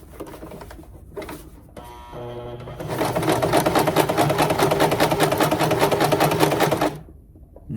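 A sewing machine stitches an appliqué onto a kitchen towel, running loud and steady in a fast, even mechanical rattle for about four seconds after a few brief starts.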